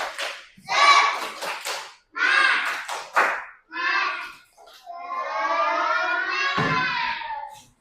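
Classroom of primary school children doing a rhythmic spirit clap in a lesson, with bursts of sharp clapping mixed with loud children's chanting and shouting, close and lively, ending in a long sustained group cheer.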